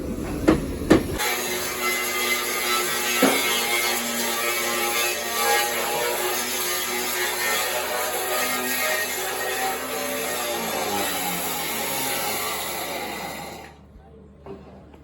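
An angle grinder runs at a bridge construction site in Mirpur, a loud continuous whining drone held for about thirteen seconds before cutting out, with a few knocks near the start.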